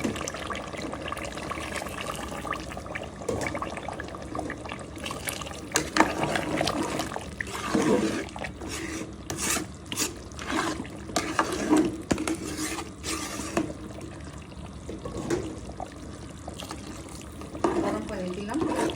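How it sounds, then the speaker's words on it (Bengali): Hot water poured into a pot of braising beef and potato curry makes a steady splashing, gurgling pour with occasional clinks and busy kitchen clatter throughout. "গরম পানি দিলাম।"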